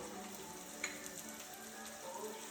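Onions frying with a little salt and sugar, a steady soft sizzle through the whole stretch with one brief tap near the start, fairly quiet and with no talking.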